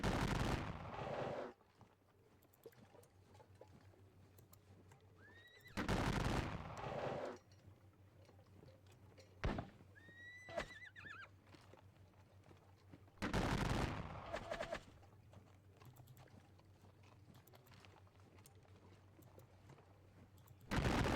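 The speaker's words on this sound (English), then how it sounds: "You open fire there, which then they will go there and open fire." Musket volleys from troops opening fire in a Napoleonic war video game, with several loud, broad crackling bursts each lasting about a second, separated by quieter stretches of low hum and faint battlefield noise.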